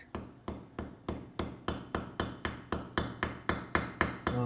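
A hammer strikes a brass rivet on a hand-forged bindrune pendant necklace: about fourteen sharp, evenly spaced metallic taps in a steady rhythm, close and clear with no talking.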